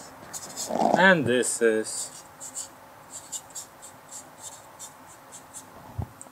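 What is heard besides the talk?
writing with a pen on a workpiece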